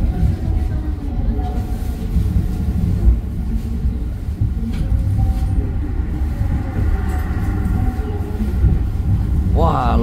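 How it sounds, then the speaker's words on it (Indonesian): KA Mutiara Timur, an Indonesian passenger train with executive and business class cars, rumbling loudly and steadily for the whole stretch, heard from on board with a low continuous roar and faint rail noise, with a brief rising tone at the end. "lokomotifnya ini lokomotif perdana Batu Raden nih"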